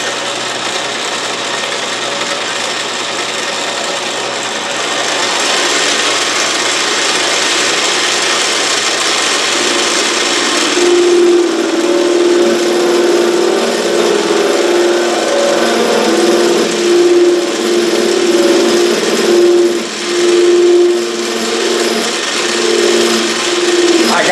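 An Autobox 8x16 lathe cuts a workpiece with a continuous grinding, rubbing machining noise. A steady whining tone rises partway through and carries on to the end, with no talking.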